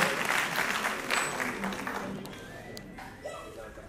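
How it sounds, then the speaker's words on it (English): Applause for a hospital medicine department team at a medical college independence day celebration, a crowd clapping loudly at first and then thinning and fading over a few seconds. "Applaud for all the team."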